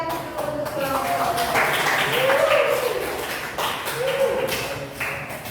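Classroom group presentation session where the audience gives applause to the presenting group, a short burst of clapping and tapping heard up close alongside chatter and a voice speaking.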